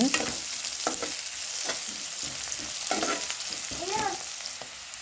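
Onions or similar ingredients frying in a pan until golden, a steady close sizzle with scattered stirring scrapes and clatters over about five seconds.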